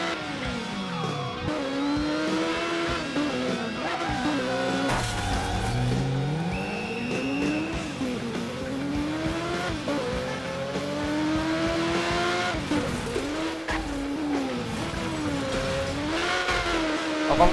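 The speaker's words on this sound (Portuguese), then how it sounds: "E essa moto aqui é muito fera, galera. Corre demais essa bicha aqui. Muito veloz." A motorcycle engine races in the video game Burnout Paradise, revving up and down in sweeping climbs with occasional tire squeals, loud and continuous with no talk.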